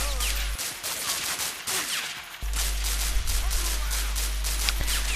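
Rapid gunfire fills a firefight in the action game Tomb Raider Legend, with dense overlapping shots and bursts in steady succession over a low droning backdrop.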